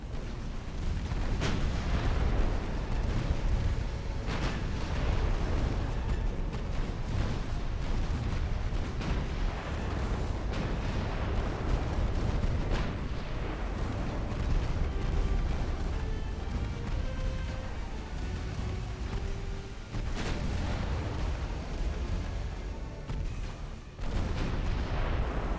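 Heavy battleship main guns boom repeatedly in the naval game Ultimate Admiral: Dreadnoughts, deep blasts rising over a steady, loud rumble of battle that lasts throughout.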